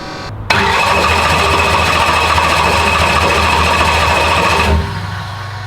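Engine running with no injectors fitted, firing up abruptly into a loud, steady, rough idle that carries on for several seconds before dropping off to a quieter level.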